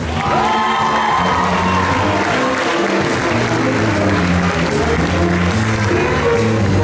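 A large crowd at a school graduation ceremony applauds and cheers loudly, with shouts and whoops over continuous clapping throughout.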